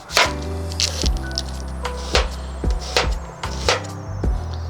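A knife chops onions on a cutting board at an outdoor cooking setup: about nine crisp, evenly spaced chops, close and clear, with a low steady hum underneath and no talking.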